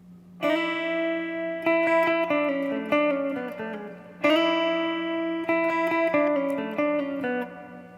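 An electric guitar plays the intro, a mostly single-note line with slides and double stops, in clear, sustained notes. The phrase repeats twice over about eight seconds with no voices.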